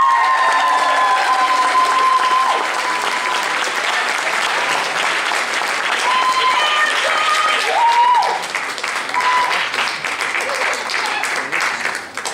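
A school band audience applauds its senior members, a sustained, loud wash of clapping from a sizeable crowd that holds steady for several seconds with a few faint voices mixed in.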